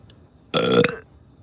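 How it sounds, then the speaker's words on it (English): A single drawn-out burp sounds close and loud for about half a second, alone against near silence. "Then you'll burp it all out"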